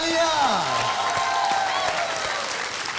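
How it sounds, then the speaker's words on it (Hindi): Studio audience applause on a Hindi TV game show set, a steady wash of clapping mixed with a descending musical sting and tones, with some voices underneath. "तालियां"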